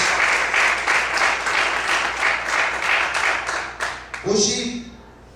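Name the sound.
church congregation applause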